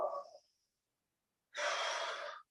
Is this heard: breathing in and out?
yes